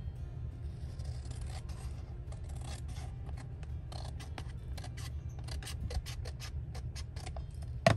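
Scissors snip through a large handmade paper tag with a rapid series of crisp, close cuts, faint at first and then quickening, ending in a sharper final snip.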